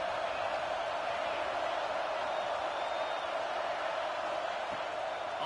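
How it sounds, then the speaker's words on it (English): A home crowd at an Oregon vs Penn football game roars as one steady, loud wall of noise that goes on without a break. "how nice is it to have the home crowd going absolutely bananas?"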